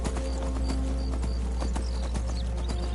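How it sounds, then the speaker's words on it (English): Horse hooves of a Daedric horse in Skyrim clip-clop in a steady, quick rhythm over a constant low rumble, with faint chimes and effects layered above. "Summon our Daedric horse."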